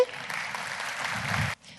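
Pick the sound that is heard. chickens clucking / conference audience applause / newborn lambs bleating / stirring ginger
conference audience applause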